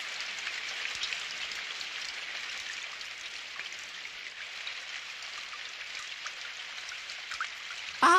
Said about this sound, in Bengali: ছাতার মাথার বৃষ্টি এবার একটু থামো না ভাই।